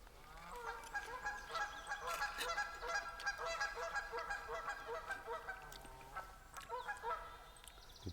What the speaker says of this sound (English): The geese are just vicious out there.